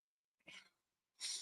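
A person sneezes indoors: a short breathy burst, a pause, then a sharper, louder second burst, close to the listener, with no talking.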